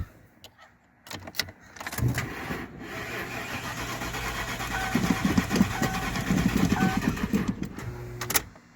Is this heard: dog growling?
no